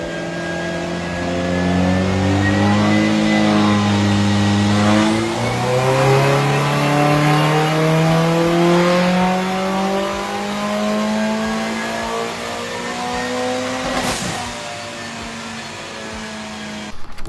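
A 2008 Mitsubishi Evo X engine revs on a dyno: a loud, sustained engine tone rises steadily in pitch for several seconds, drops and climbs again, then a sharp crack near the end gives way to a lower settling drone.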